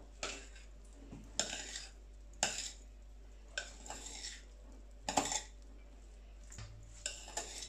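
Eggs and rice mixed together in a bowl, a utensil scraping and clinking against the dish in several separate bursts of stirring with short quiet gaps between them.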